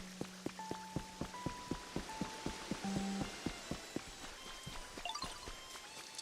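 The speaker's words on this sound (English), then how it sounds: "Just got everyone standing out here in the rain." Rain falling outdoors in a Pokémon game scene: a soft, steady patter with evenly spaced ticking drops and faint tonal chimes layered over it, quiet and continuous.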